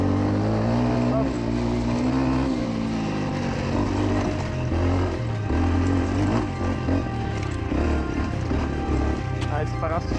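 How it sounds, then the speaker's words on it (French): A Beta RR 125 LC two-stroke enduro motorcycle is ridden hard off-road in cold, wet conditions, its engine revving and buzzing steadily up and down close by, with a rider talking over it. "On va essayer de pousser la moto à ses limites, le pilote aussi."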